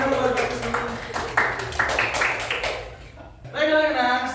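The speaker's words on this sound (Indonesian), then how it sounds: "Tepuk tangan dulu buat Bapak semua." A class of students claps in a classroom, a quick run of sharp hand claps mixed with voices, fading briefly before people speak again.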